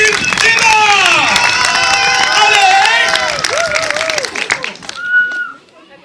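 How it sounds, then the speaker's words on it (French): A cinema audience at a 2014 film premiere in Montluçon claps, stamps and whistles together in a loud, dense burst. Shrill whistles and voices rise above the clapping, then the noise thins and fades away by the end. "Et on tape les pieds, et on tape les mains, et on siffle."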